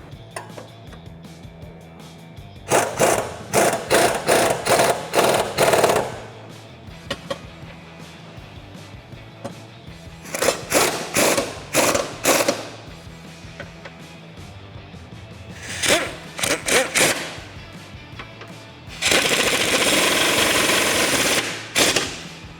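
An impact wrench tightens subframe bolts with 21mm and 13mm sockets on a 2015-2019 Ford Mustang, firing four loud, close bursts of rapid hammering separated by quiet pauses, the last one a longer steady buzz.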